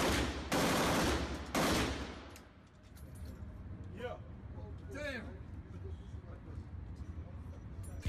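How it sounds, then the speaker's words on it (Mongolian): A $50,000 firearm is fired in rapid bursts, two loud, harsh volleys of gunfire close together, then quieter background noise with scattered voices. "Хулгаад алдахын өмнө буутаага сүүлийн удаа ингэж буудаж байж."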